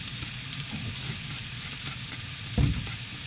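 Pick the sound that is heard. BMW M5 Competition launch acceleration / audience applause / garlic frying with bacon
garlic frying with bacon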